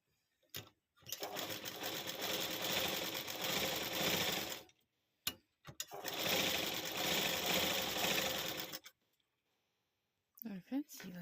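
A tailoring sewing machine stitches folded fabric for a dori design in two long, loud runs of steady whirring, separated by brief pauses and short clicks, with a few sharp handling sounds near the end.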